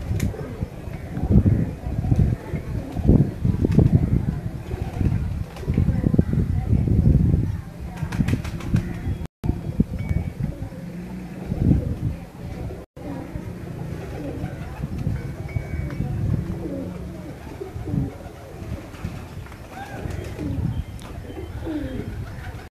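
Pigeons coo on a rooftop in Kasur, with soft repeated cooing, wing flaps and rustling throughout, fairly close, while people talk in the background.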